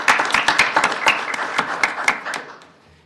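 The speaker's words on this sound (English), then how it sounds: "We'll clap for him" A small audience at a city council meeting claps for a police officer receiving an award, distinct individual claps close by that thin out and fade away near the end.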